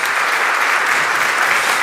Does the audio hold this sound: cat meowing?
no